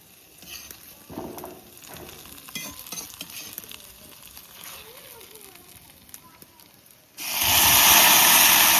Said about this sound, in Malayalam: ഉള്ളി മൂത്ത് വന്നിട്ട് ഇതഞ്ഞ് കറിക്ക് അങ്ങോട്ട് ഒഴിച്ചു കൊടുക്കുക